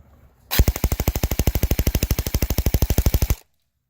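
Airsoft P90 Swordfish fired full auto on an 8.4 volt battery: one loud, rapid, evenly spaced burst of about three seconds, close up and alone, starting and stopping abruptly.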